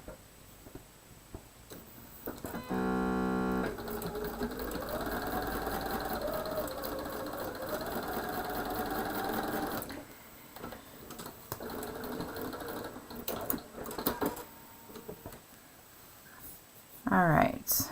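A sewing machine stitches a quilt strip for a framed hexie star quilt, running in a steady whirring burst for several seconds after a brief rapid start, then quiet handling noises follow.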